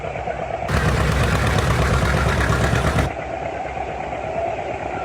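An old John Deere tractor rolls past in a classic car and antique tractor parade, its engine a loud, steady rumble for a few seconds before it moves off and fades into the background noise.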